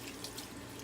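Cold tap water runs quietly in a sink while tie-dyed fabric is rinsed under it, a faint, steady trickle with no voices.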